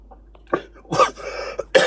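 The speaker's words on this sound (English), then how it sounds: "no, I was coughing" A person coughs a few times in quick succession, close and fairly loud, the harsh bursts separated by short gaps and the throat briefly cleared, with no speech.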